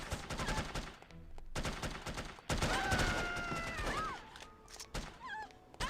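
Bursts of automatic gunfire in the shooter game No One Lives Forever, with rapid rattling volleys broken by brief gaps, alongside whistling, warbling game effects and a few sharp thuds.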